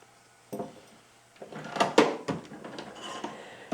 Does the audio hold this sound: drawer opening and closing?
yes